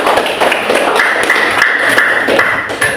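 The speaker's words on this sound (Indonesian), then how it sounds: "Tepuk tangan." A classroom group claps in applause at the end of a student presentation, a dense run of close, sharp hand claps lasting the whole stretch at fairly loud level, with no talk over it.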